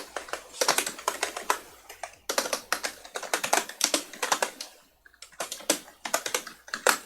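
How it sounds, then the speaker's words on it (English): A loud computer keyboard is typed on in quick bursts of sharp, close clacks, with short pauses between runs of keystrokes. "Sorry for the obnoxious keyboard noises."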